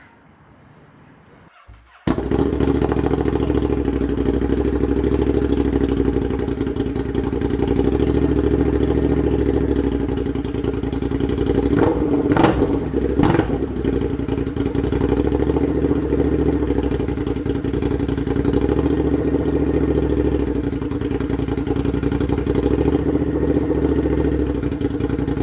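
Ducati motorcycle engine fitted with an SC1-R exhaust starts abruptly, then idles loud and close with a deep steady rumble, broken by a couple of brief sharp revs partway through.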